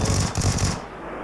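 Gunfire in the video game PUBG Lite: a rapid, loud automatic burst of evenly spaced shots that cuts off abruptly after under a second, leaving quieter background.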